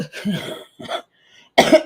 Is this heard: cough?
yes